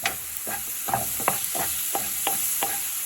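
Onions sizzle in a pan while a utensil stirs them in a regular rhythm, about eight scraping strokes over a steady bright frying hiss, close and clear with no voices.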